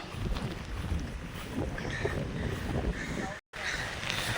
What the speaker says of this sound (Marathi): असा आता वारा पाऊस चालू झालेला आहे